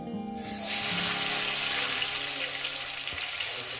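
Tomatoes frying in a pan for fish cooked with poppy-seed paste and drumsticks, a steady loud sizzle that swells after a brief quieter start and holds without pause.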